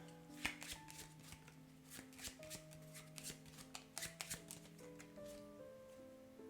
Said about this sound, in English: And then shuffle again.